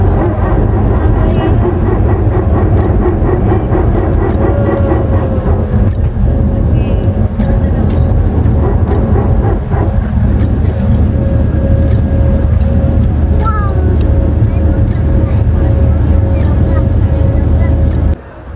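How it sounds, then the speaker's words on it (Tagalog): Steady loud engine roar of an airplane during takeoff, heard from inside the passenger cabin, a dense continuous drone with a faint rising whine and brief voices underneath. "ganto yung maririnig mong ingay paglipad ng eroplano"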